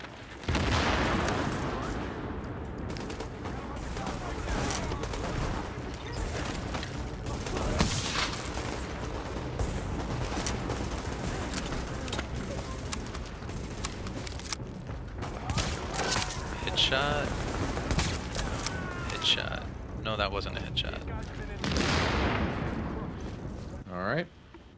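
Sustained heavy gunfire from an online shooter match in the Gramercy district, loud and dense with rapid overlapping bursts and booms filling the whole stretch, with a little talk mixed in near the end.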